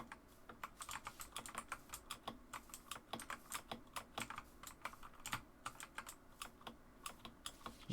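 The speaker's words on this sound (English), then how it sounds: "you can hear my keyboard going nuts." Rapid, busy computer keyboard typing during Minecraft gameplay, with dense clattering keystrokes in irregular bursts throughout, fairly close and alone without talk.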